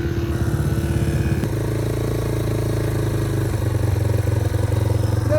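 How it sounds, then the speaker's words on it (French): A motorcycle engine runs in about two feet of snow with a rough, motocross-like sound. It stays loud and close throughout, with a steady clattering drone and small shifts in pitch. "ça sonne comme un motocross"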